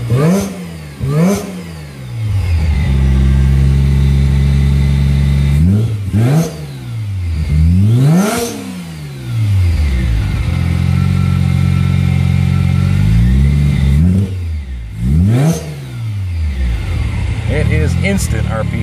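A supercharged rotary engine in a Karmann Ghia blips and revs hard again and again, each rev climbing fast and dropping back to a loud rough idle, close up and sustained.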